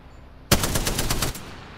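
A Spitfire light machine gun in Apex Legends fires one rapid burst of about eight loud, evenly spaced shots that stop abruptly after less than a second, with no talk.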